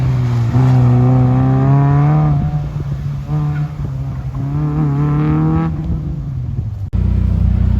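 A Honda race car engine roars close and loud through a run, holding a strong droning note that rises and falls through gear changes, with a sharp cut near the end.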